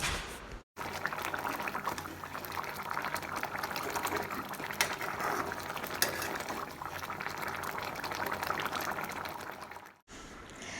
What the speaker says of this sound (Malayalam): നമ്മുടെ കറി ഇവിടെ കിടന്ന് നന്നായി തിളയ്ക്കുന്നുണ്ട്